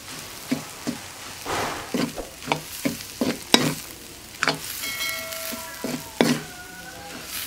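Curry leaves drop into a sizzling banana flower stir-fry in a pan, with a soft crackle under repeated sharp scrapes and taps of a stirring spoon.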